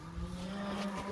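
Cattle grazing on spring farm pasture, one cow giving a single drawn-out low moo at moderate distance, with faint outdoor background.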